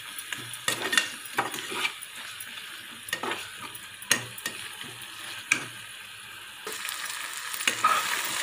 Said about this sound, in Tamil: கருவேப்பிலை ரெண்டையும் போடலாம் இது நல்லா வணங்கட்டும்